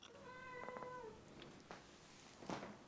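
A cat meows indoors, a short harmonic call near the start followed by faint brief sounds, alone with no talk.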